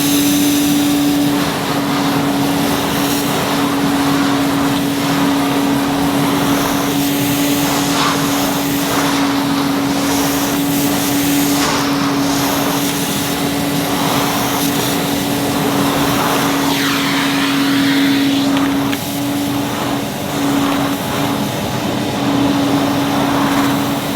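A 1977 Hoover 427 vacuum cleaner running on carpet: a loud, steady motor hum with a strong constant tone and a broad airy rush, shifting slightly as it is pushed about, with no talking.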